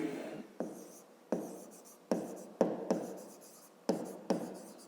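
Close, quiet pen or chalk strokes write out a fifth-grade math solution on remainders and division, in a string of short scratchy strokes with brief pauses between them.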